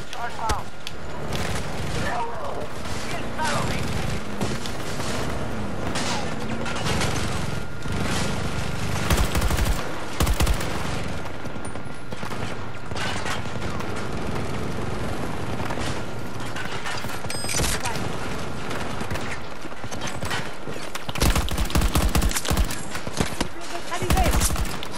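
Gunfire in the shooter Battlefield 2042, a dense and continuous battle din of rapid shots and clattering mechanical noise running through the whole stretch, with occasional louder bursts and voices talking under the chaos.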